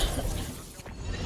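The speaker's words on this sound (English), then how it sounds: "My camera is destroyed." A camera is destroyed in a video game with a sharp, glassy shattering burst amid a dense, continuous wash of game noise, followed by a brief crackle near the end.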